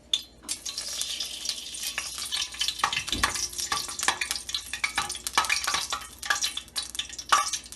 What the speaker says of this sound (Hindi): 2 टेबल स्पून घी डालेंगे, लौंगे और इलायचियाँ डालेंगे,